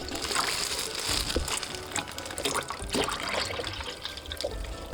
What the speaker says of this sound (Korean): 촘촘한 대보자기에 물을 걸러줘요